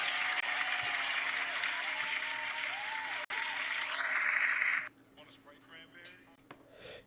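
Studio applause for The Miz on a live pro wrestling show, with a burst of recorded crowd clapping and cheering, loud and sustained for about five seconds before cutting off into quiet talk.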